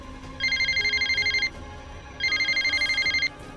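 A telephone bell rings in two bursts of rapid trilling, each lasting about a second with a short silence between them, loud and close over a faint room background.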